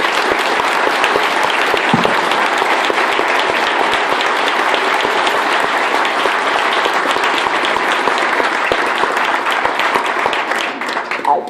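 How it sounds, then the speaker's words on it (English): Loud, sustained applause from a large audience honoring military veterans at a campaign kickoff, with thick, continuous clapping that stays strong before easing slightly at the end. "can we please have a round of applause?"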